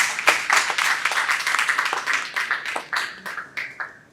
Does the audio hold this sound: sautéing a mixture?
no